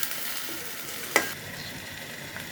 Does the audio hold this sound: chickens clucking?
no